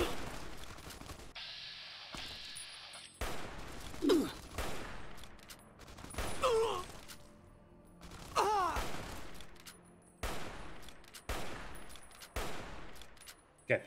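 Gunfire from the video game Fallout: New California: several separate sharp shots spread irregularly across the stretch, loud and close, with game noise and movement sounds in between.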